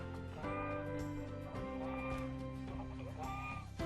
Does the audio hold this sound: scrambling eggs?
no